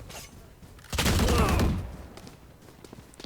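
Gunfire from a Classic pistol in the Valorant video game, a dense loud burst of rapid shots lasting under a second, followed by quieter in-game ambience and faint movement.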